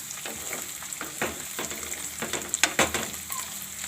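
Carrots and peas frying in hot oil in a pan for a Gujarati vegetable dish, a steady crackling sizzle with irregular sharper pops and stirring scrapes, close and moderately loud.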